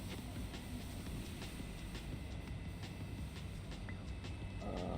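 A train runs in Trainz Railroad Simulator 2019, producing a low, steady rumble of rolling wheels with faint intermittent clicks and a soft tonal hum, quiet and continuous throughout.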